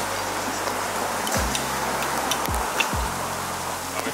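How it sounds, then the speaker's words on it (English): Steady rain falls outdoors during a kendama game, a continuous soft hiss with scattered drops and a few low thumps underneath. "Oh, it's really raining."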